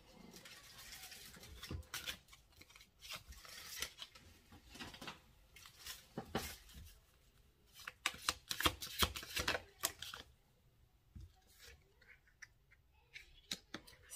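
Tarot cards being shuffled by hand in a series of quick riffling, flicking bursts that come and go, close and fairly quiet, with no talking.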